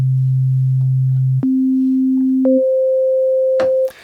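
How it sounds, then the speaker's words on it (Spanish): A pure sine wave from the Vital software synthesizer holds a low steady pitch, then steps up twice to higher sustained tones, ending with a short noisy burst; loud, clean and alone. "un sine wave que estás viendo en pantalla suena así"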